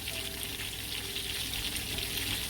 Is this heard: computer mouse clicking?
no